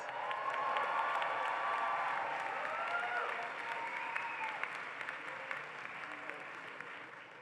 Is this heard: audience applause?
yes